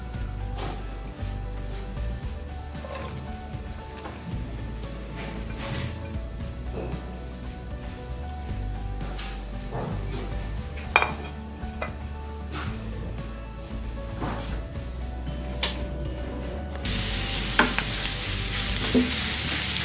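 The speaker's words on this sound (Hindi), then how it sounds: "ऑयल हमारा अच्छी तरह से गर्म हो गया। अब इसमें मैं प्याज डाल दूंगी।" Onions frying in hot oil for anda pyaz, a steady close sizzle with occasional spoon clinks and stirring scrapes, getting brighter and hissier near the end, with no talking.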